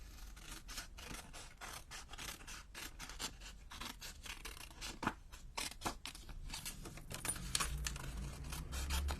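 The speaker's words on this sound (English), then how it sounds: "I will trim it with my scissors" Scissors trimming a sheet of card for handmade cards: a quick run of crisp snipping and rasping cuts, close and fairly quiet, with no talk.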